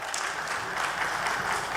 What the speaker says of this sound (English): Let's have a round of applause for Kain, sir